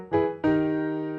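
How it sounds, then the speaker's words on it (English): Two piano chords from an Arturia Analog Lab 4 software instrument struck in quick succession, the second one sustained and slowly fading, close and clear. "So that's a nice piano sound."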